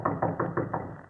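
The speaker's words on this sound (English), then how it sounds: "He will then assume his most authoritative air and knock." Five firm knocks on a wooden door, evenly spaced and close, in a Sherlock Holmes audio drama, alone with no voices.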